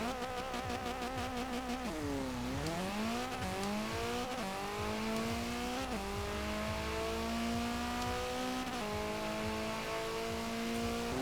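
A Ford Fiesta XR2 drag build in Forza Horizon 4 revs hard and launches, its engine note climbing through repeated gear pulls with strong harmonic whine, loud and continuous with no talk over it.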